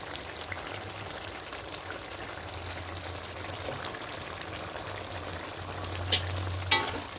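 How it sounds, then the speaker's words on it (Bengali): A pan of potato and cauliflower roast sizzles quietly as a little ghee goes in after garam masala, a soft continuous frying hiss with a couple of brief clinks near the end and no voices. "এবার সামান্য একটু ঘি দিয়ে দেবো"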